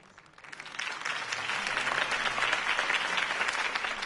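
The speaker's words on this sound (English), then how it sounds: "If only Mr. Wayne, my campaign's largest backer, could have heard that applause" Crowd applause following a political campaign speech in a Batman video game, swelling from quiet to a sustained, dense clapping roar that holds steady without any voices on top.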